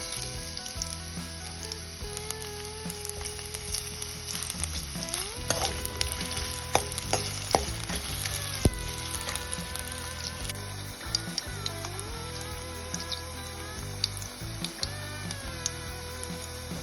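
Ginger frying in oil in a pan for injipuli, a steady close sizzle with occasional stirring clinks and scrapes, continuous throughout with faint background tones.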